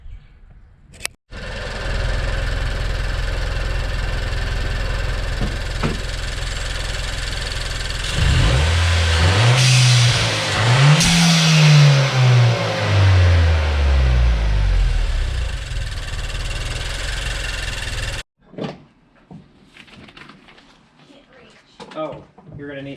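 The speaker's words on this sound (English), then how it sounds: "I just want to hear the cool blow-off valve noises" A Nissan Juke Nismo RS fitted with a GFB blow-off valve revs up loudly and close by, its engine note climbing and falling across several pulls before cutting off abruptly; quieter mechanical noise trails after.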